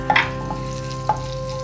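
A couple of garlic cloves fry in a pan with a soft, steady sizzle. A few brief clicks of stirring sound near the start and again around the one-second mark.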